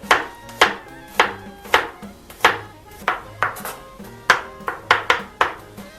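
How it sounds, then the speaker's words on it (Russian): Garlic finely chopped with a knife on a cutting board, a steady run of about a dozen crisp, close knife strikes with no talking. "Меленько нарезаю чеснок."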